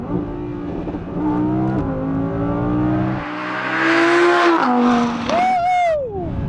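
A 2017 Audi R8 V10 Plus engine revs hard in race mode, its pitch climbing and dropping through several loud sweeps, ending in a sharp rising wail.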